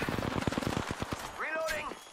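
Rapid bursts of gunfire in the video game PUBS, a run of sharp repeated shots up close that gives way to a voice speaking near the end.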